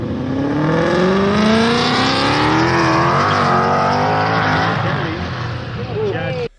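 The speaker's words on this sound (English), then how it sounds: "The part of my exhaust that I don't like is that it's a little raspy" A Volvo engine revs hard and close, its raspy exhaust note climbing steadily in pitch before cutting off abruptly at the end.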